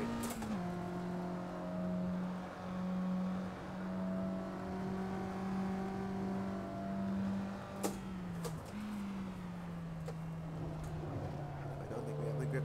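A race car in the Assetto Corsa racing game holds a steady, droning engine note down a straight, its pitch sustained with a brief dip and shift midway, loud and continuous with a sharp click near the middle.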